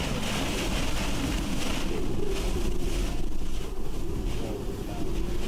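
Hurricane Helene drives a sustained, roaring wind gust at street level, a loud broadband rush that holds steady for several seconds with a brief dip partway through.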